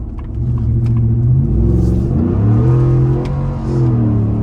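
A steady, deep engine rumble with rising and falling revs as a Ford Raptor pickup truck accelerates onto a highway, continuous road noise and whir throughout, heard from inside.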